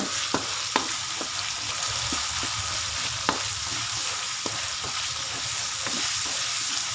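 Pork liempo fries with crushed black pepper and soy sauce for adobong sitaw at okra, a steady close sizzle with occasional sharp pops and spatters throughout.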